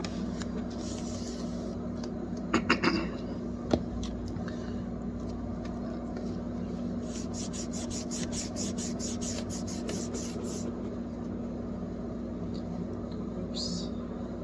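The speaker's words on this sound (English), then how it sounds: "same rubbing on a different area" A Norwex cloth rubbed over a dirty refrigerator door seal, a continuous close scrubbing rasp with a few short clicks and bursts of quicker strokes, steady in level throughout.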